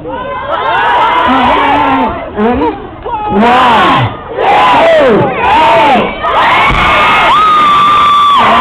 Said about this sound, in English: Everybody yell out 1, 2, 3, backflip